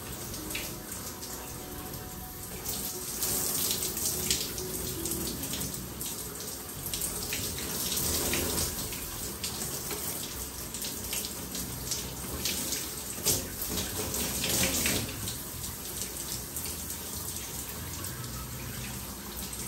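Tap water runs steadily into a bathroom sink during a hair pre-wash for an afro crochet protective style, a continuous close splashing hiss lasting throughout with faint surface variation.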